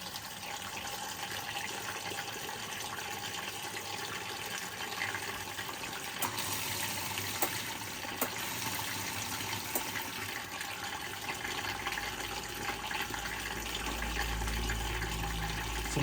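A Whirlpool 3RLSQ8000 washing machine on a Super Wash cycle, with a timer fault, filling with water: a steady loud hissing rush with faint clicks, swelling into a deeper rumble near the end.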